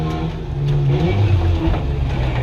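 A Ford Ranger truck runs a whoops section at a truck event, its engine revving hard with rising and falling pitch, fairly close and loud over a rough background.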